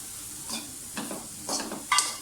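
Vegetables with chicken stock sizzle in a pan while being stirred, with four short scraping strokes spaced about half a second apart over a soft frying hiss.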